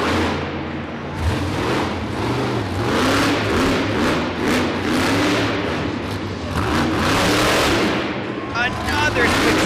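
A monster truck engine roars and revs hard during a wheelie attempt at a Toughest Monster Truck Tour event in Youngstown, Ohio. The loud, sustained engine noise runs under an excited commentator's talk.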